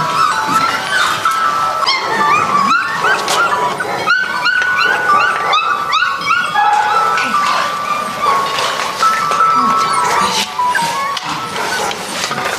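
Over 200 puppies in makeshift outdoor pens at an animal shelter keep up a loud, dense chorus of yips, barks and high whimpers that overlap continuously throughout.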